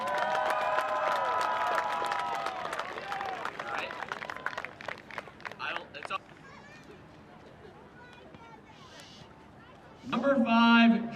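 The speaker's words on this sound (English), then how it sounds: "One last round of applause for Antonio Mancini." A crowd claps and cheers at a high school football senior recognition for St. Bernard's, loud sustained applause under an announcer's voice that fades to quieter scattered clapping, then swells again briefly at the end.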